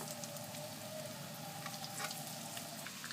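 Chicken meatballs with kashar cheese sizzle and crackle steadily in a hot pan, a soft continuous frying hiss with faint pops, no talking.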